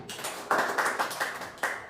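Schoolchildren in a classroom give a short burst of clapping, a few uneven hand claps close by over roughly two seconds, with no voices.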